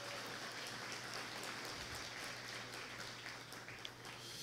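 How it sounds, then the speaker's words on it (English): A luncheon audience claps for a silver sponsor, steady and dense applause that sounds distant and faint, continuing without break and with no talking. "Big round of applause."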